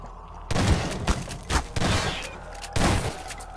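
Several bursts of rapid gunfire in Garry's Mod, loud and close, separated by short pauses, with a thumping, game-like quality.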